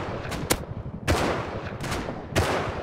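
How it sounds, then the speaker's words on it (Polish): Gunfire in the survival game Rust: a quick double crack followed by three heavy, booming shots spaced roughly half a second to a second apart over a steady rumbling background, fairly loud with no talk over it. "Strzela do kogoś."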